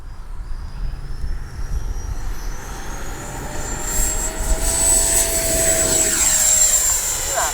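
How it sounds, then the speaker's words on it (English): An FMS 80mm F-86 RC jet taking off, its ducted-fan whine rising in pitch and volume as it speeds past, a steady close roar with a voice talking over it. "All right, we're going to take off this time with no takeoff flaps."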